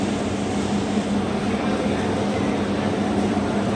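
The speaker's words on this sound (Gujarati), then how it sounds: "જો આ ટ્રેક્ટર ખાલી કરે હા" A tractor unloads groundnuts at a groundnut mill, giving a loud, steady machine rumble with a constant low hum and broad noise throughout.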